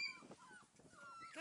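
A five-week-old Dalmatian puppy whimpering in a few short, faint, high whines and yips, close by and quiet.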